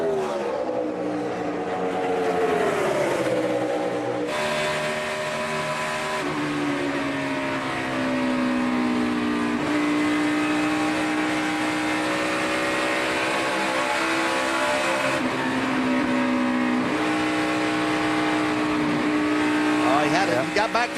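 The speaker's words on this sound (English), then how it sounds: "He got back to the throttle, but he lost the nose there in doing that." NASCAR stock cars racing at Indianapolis Motor Speedway during the 2014 Brickyard 400, engines droning steadily and rising in pitch as they accelerate, loud and continuous throughout, with race commentary spoken over the roar.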